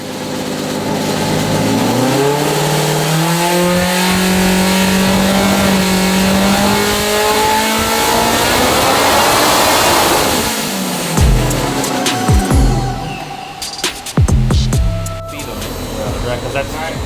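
A Procharged Polaris RZR engine on a hub dyno revs loudly and steadily, pitch climbing then dropping back near the end. Nearby voices are heard over the engine toward the close.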